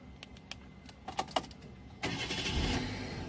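Starter and engine of a 2005 Kia Morning SLX heard from inside the car: a few soft clicks and key rattles, then the engine catches at once and settles into a steady, fairly loud idle.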